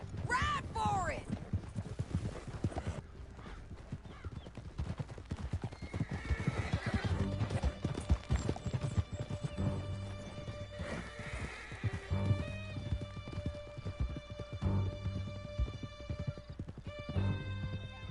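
Horses gallop through a canyon in a Red Dead video game, steady rapid hoofbeats with whinnies over them, joined by shouting voices and a rising orchestral score.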